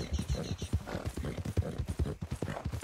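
A horse trots along in Red Dead Redemption 2, hooves clip-clopping in a quick, regular rhythm of close, distinct thuds throughout, with faint background game ambience and no clear speech.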